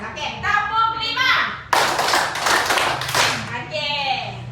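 A classroom of children claps a counted rhythm pattern in unison, a sharp burst of dense claps breaking in after an adult's spoken count, with a voice speaking before and after.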